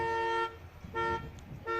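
Car horns honk at a Memorial Day parade in Madison Heights, three sustained toots in a steady rhythm, faint and distant beneath outdoor crowd noise.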